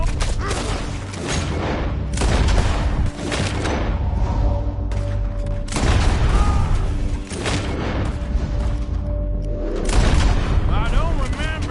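Gunfire in Red Dead Redemption 2, heavy booming shots repeated across the span over a dense bed of game sound, with voices talking throughout.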